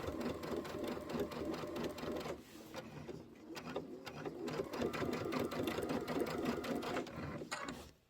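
Sewing machine stitching in the ditch on a quilted pillow, running in a steady fast mechanical whir with a brief pause midway and a stop at the end, close and moderately quiet, with no talk.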